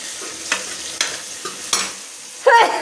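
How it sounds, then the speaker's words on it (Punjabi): Oil sizzles steadily in a pan as spices fry for palak paneer while a spoon scrapes and stirs at regular intervals, ending in a brief louder clatter. "ਇਹਨੂੰ ਮੈਂ ਤੇਲ ਦੇ ਵਿੱਚ ਫਰਾਈ ਕਰਨ ਲੱਗੇ"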